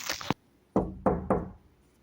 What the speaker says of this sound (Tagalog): Parang may kumakatok.